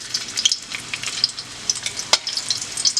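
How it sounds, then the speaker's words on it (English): Chopped onion frying in hot oil in a pan readied for fish, giving a steady crackling sizzle with scattered sharp pops, close and fairly loud with no voices. "It's hot and I'm going to put a little bit of onion in there for flavor."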